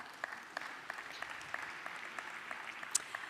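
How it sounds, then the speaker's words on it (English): Audience applause at the opening session of a child labour elimination conference, greeting a minister as he comes up; fairly quiet, steady clapping from a moderate distance with a few sharper individual claps standing out. "let's give him a round of applause as he comes up"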